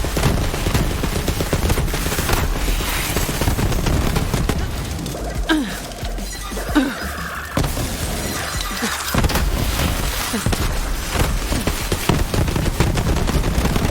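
Borderlands 3 combat rings out with continuous dense gunfire and explosive bursts, loud and chaotic throughout, briefly dipping before the shooting resumes at full intensity.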